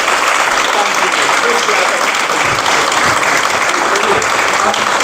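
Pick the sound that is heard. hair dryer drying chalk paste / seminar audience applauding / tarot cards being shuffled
seminar audience applauding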